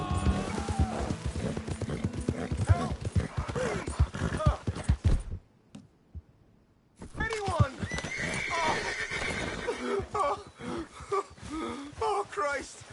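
A horse in Red Dead Redemption 2 gallops with rapid clip-clop hoofbeats and loud neighs and whinnies, with a short silent break midway; voices and game sounds mix in.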